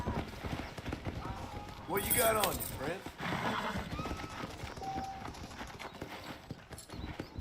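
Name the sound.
horse hooves in Red Dead Redemption video game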